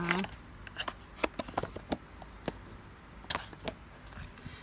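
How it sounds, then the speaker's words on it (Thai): Tarot cards are shuffled by hand in uneven bursts of soft flicks and riffles, close and light, with someone talking over them. "ก็อื่นเรามากรีดไพ่กันก่อนนะคะ"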